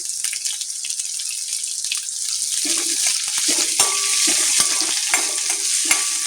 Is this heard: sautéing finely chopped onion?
yes